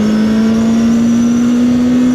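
A CFMOTO 750SR-S motorcycle's inline-four engine holds a loud, close, steady high rev with a smooth sustained buzzing drone that climbs very slightly in pitch.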